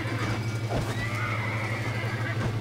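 A horse in the Red Dead Redemption video game gives a clear rising-and-falling whinny lasting over a second, with a few sharp hoof clops around it over steady game background sound.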